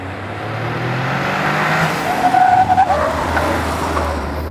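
Toyota GR Yaris rally-bred hatchback driven on the road, its turbocharged engine droning steadily with a rising whistle and a brief turbo blow-off hiss near the middle, close and fairly loud with no talking.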